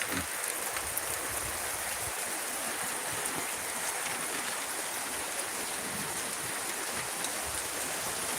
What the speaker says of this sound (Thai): เฮ้ยฝนย่อยอยู่